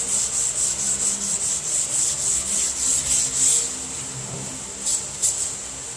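Block sanding the body panel of a muscle car under restoration: a steady back-and-forth rasp of abrasive paper on a hand block, rhythmic strokes repeating close up, then slowing to a few final passes, with no talk.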